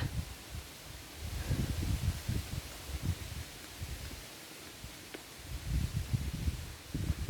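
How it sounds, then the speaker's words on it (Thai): Strong storm wind gusts outdoors at a rubber plantation, coming in rumbling buffets with rustling leaves, rising and falling in uneven surges, no talk. "ลมก็แรงแรงนะคะ อุ้ยพายุค่ะ ดูสิคะลม แรงค่ะเสียงลม พายุนะคะ"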